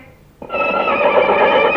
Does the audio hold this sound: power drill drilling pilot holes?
no